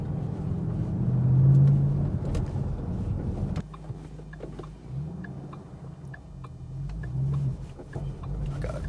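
A 2014 Ford Mustang GT500 with a manual gearbox and firm clutch pulls away, its engine giving a steady, loud low rumble that swells, then drops to a lower drone after a shift, with wind noise over the microphone.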